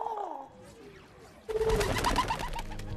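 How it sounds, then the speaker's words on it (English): Pigeons wearing tiny backpacks coo in a video game; a few soft coos come first, then from about halfway in louder gameplay noise with clatter and a brief tonal sound sits over them. "Are those pigeons wearing tiny backpacks?"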